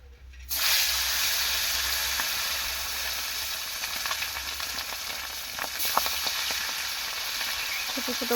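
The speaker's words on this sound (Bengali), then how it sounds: "ছোটো ছোটো মাছগুলো ভাজবে এবারে" Small fish frying in a pan give a strong, continuous sizzle that starts abruptly and stays close and steady, with a few light scrapes and clicks later on.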